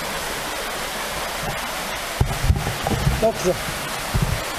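A waterfall popular with tourists gives a steady broadband rushing roar throughout, with a person speaking briefly over the constant water noise.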